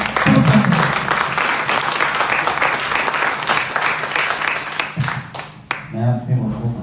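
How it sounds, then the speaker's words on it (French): Sustained applause from an audience fills the room at an academic workshop, honouring a professor, with voices briefly audible at the start and again near the end. "Je vous prie d'applaudir"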